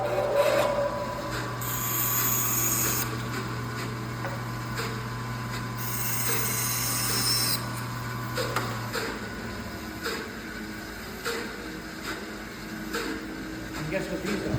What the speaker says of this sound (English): So I'm going to go to the bandsaw.